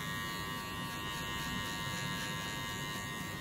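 Electric hair clipper buzzing steadily up close during a high fade haircut, a continuous even whir with no talking over it.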